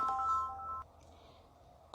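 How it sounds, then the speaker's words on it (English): A mobile phone rings with a short electronic tone in the first second, then cuts off, leaving faint background hiss. No one speaks. "I apologise there if you heard my phone ringing."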